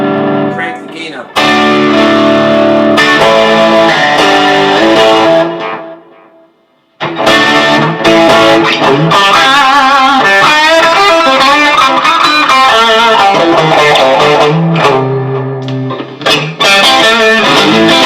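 Electric guitar driven through a Rowin overdrive and distortion pedal with the gain cranked high, playing loud saturated chords and lead lines that stop briefly mid-clip, then return with sustained, heavily distorted tones.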